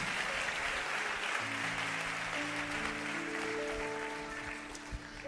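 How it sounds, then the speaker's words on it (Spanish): A church congregation applauds God during a service, a steady wash of clapping from a large crowd, with sustained organ or keyboard chords entering and holding beneath it. "Vamos a darle un aplauso a Dios."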